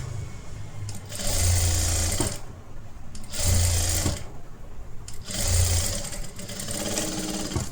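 Sewing machine stitching folded blouse fabric for a collar-neck blouse, running in three steady bursts of a couple of seconds each with brief pauses between, close and loud.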